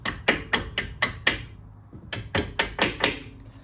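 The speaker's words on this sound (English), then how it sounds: "we're just gonna knock these babies out with a hammer" Sharp metallic blows of a small hammer knocking out floating brake caliper pins on a Mercedes-Benz GLC, six in a quick steady rhythm, a brief pause, then five more, close and loud with no talking.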